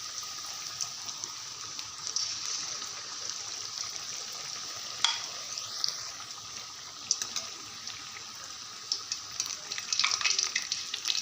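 Raw potato pakoras fry in a pan of hot oil in a home kitchen, giving a steady close sizzle with scattered crackles and pops and no talking.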